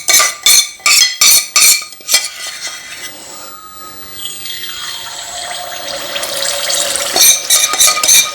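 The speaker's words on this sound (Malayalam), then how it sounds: "ലാസ്റ്റ് ഉണ്ണിയപ്പം കൂടെ ഒഴിക്കാം" The last of the unniyappam batter goes into a hot pan on a new-home Vishu morning. A few sharp metal clinks of a spoon on the pan lead into a rising, steady sizzle and bubbling as the batter hits the hot oil.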